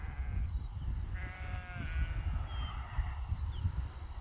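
Goats bleat repeatedly on a farm as a herding dog gathers them around a barn, several overlapping calls rising at mid distance over a low rumbling background, with no talk.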